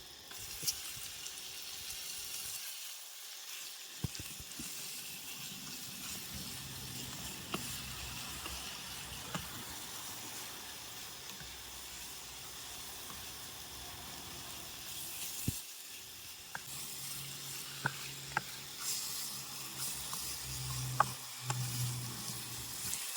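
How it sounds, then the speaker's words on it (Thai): Pork is stir-fried in a pan, giving a continuous sizzling hiss with occasional clicks of a utensil against the pan and a couple of brief pauses, heard close, with no voices. "พอเราผัดหมูได้ที่แล้วนะคะ"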